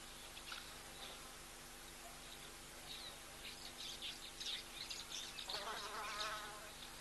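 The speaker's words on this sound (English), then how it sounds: "couple of the flies and bugs buzzing around as well." Flies and other insects buzz in intermittent, close passes at an outdoor waterhole, the whirring swelling louder toward the end over a steady background hum, with faint bird calls.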